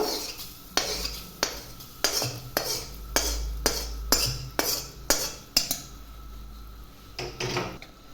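A spoon stirs tempering into pongal in a metal pot. It makes steady scraping clinks and regular knocks against the pot over a soft sizzling background, and no one talks.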